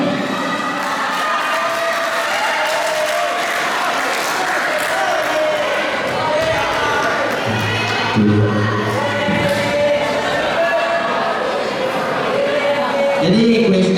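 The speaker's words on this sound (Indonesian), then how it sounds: "Kasih tepuk tangannya dulu dong." An audience of new students at an Islamic boarding school evening event applauds and cheers, a dense sustained wash of clapping and shouting with voices rising over it.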